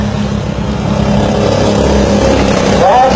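Mini trucks race on a track with a steady, loud engine drone filling the whole stretch, and a brief rising engine note near the end, with no talk over it.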